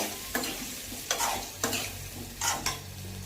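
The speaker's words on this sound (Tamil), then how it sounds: "இப்போ நம்ம நல்லா எண்ணெயிலே ஃப்ரை பண்ணணுங்க" Potato pieces fry in hot oil, a continuous sizzle broken by several sharp scraping stirs spaced irregularly, close and fairly quiet, with no speech.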